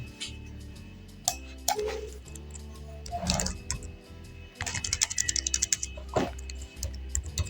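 Keys clicked on a computer keyboard while entering a place name in ArcGIS mapping software, irregular clusters of close taps and clicks over a low steady hum, no voices.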